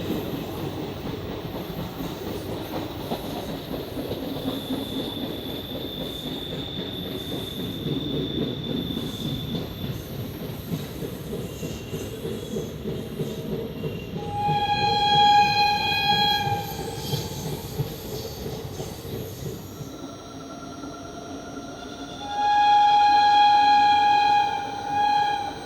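The Koyna Express rolls from Mumbai toward Kolhapur near Mumbra, a steady rumble of wheels and carriage noise with rhythmic clatter, and several horn blasts and squealing tones rising over the run in the second half.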